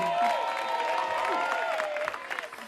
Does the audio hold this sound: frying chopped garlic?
no